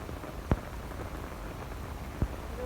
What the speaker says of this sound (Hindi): बहुत तेज़ बारिश है यार, इतनी तेज़ बारिश कहाँ से आ गई है।